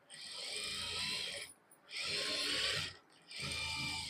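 A sewing machine stitches fabric in three steady whirring runs, each lasting over a second, with short gaps between them. The sound is close and loud with a dense buzzing texture, and there is no talking.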